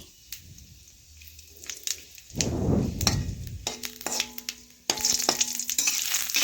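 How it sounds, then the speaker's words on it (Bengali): Bay leaves, dried red chillies and whole cumin seeds fry in hot oil in a home kitchen. The crackle and sizzle swell and stay loud, broken by metallic clinks and knocks from stirring, with no talk. "এ দেখুন তেজপাতা শুকনো লঙ্কা আর দেব আমি গোটা জিরে একটু ভালোভাবে ভেজে নিচ্ছি"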